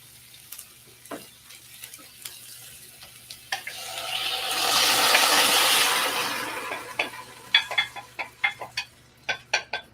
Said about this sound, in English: finally, I'm going to stir in the black beans